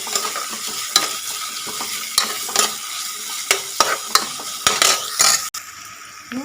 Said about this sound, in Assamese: আদা নহৰুখিনি মই এতিয়া ভাজি ল'ম কেঁচা গন্ধটো যোৱালৈকে